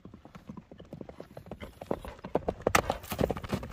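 A black Kyrgyz racehorse's hooves clip-clop on the ground in a quick, uneven rhythm, growing louder and closer over a few seconds, with faint speech in the background.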